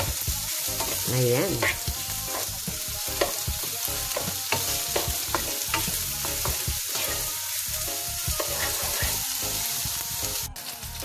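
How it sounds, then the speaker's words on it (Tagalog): Garlic, onion and tomato sauté in a hot pan for a mung bean stew, giving a steady close sizzle with scraping stirs throughout, while a voice speaks briefly. "Dito na rin tayo magigisa ng ating bawang, sibuyas, kamatis."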